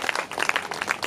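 Audience at a Bhagwat Katha religious gathering clapping in welcome, a dense, busy patter of many hands throughout a brief burst, moderately loud with no voices over it.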